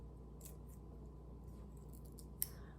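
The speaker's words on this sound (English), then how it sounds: "I use the scissors because it gives me more control with the slices." A few soft, crisp snips of scissors slicing leaves for cooking chicken sinigang, quiet against a low steady hum, with a sharper click near the end.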